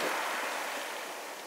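Steady wash of surf on the sandy beach at Sandwich Bay, England, a continuous broad hiss of breaking waves with some wind, heard alone.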